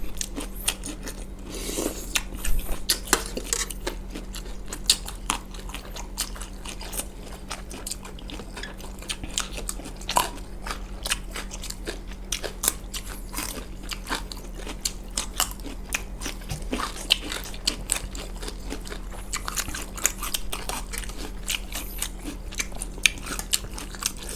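Someone eating spicy Thai lime pork bites and chews crispy fried chili, a long run of close, dry crunches and crackles in an uneven rhythm with a faint steady hum beneath.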